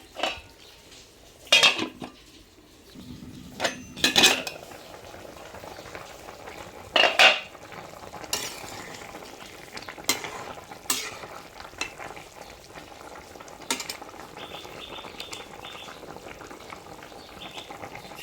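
Fish frying in a pan with red amaranth stems and potato for a Bengali curry, stirred with a utensil that scrapes and clatters against the metal in bursts over a steady low sizzle.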